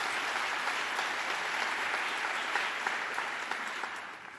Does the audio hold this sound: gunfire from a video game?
no